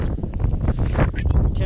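Wind buffets the microphone on a night climb up Cotopaxi volcano in Ecuador, a close, loud, gusty rumble with voices mixed in.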